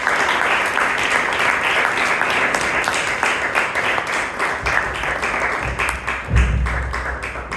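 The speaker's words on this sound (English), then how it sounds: "Please give him a big round of applause." An audience at a Toastmasters club meeting in Bangalore gives a sustained round of applause, dense steady clapping that thins out near the end as a low thump and a voice come in.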